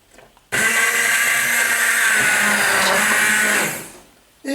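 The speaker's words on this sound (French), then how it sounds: "On va mixer la soupe." Blender whirring through mushroom cream soup, a loud steady motor roar starting abruptly, holding for about three seconds with slight churning variation, then winding down before a brief restart.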